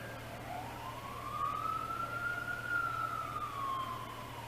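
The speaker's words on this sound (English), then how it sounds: "Another fire truck just pulled into the scene." A fire truck siren wails from a distance during a fire call at a thrift store, one long slow rising and falling tone that swells a little as it approaches, over a low steady hum.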